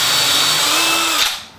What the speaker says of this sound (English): Now I drill my 1/4 inch hole in my known good location.